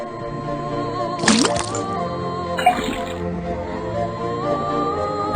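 Water from a faucet splashing and dripping into a cauldron in the Detective Grimoire video game, two brief wet bursts over a quiet musical backdrop.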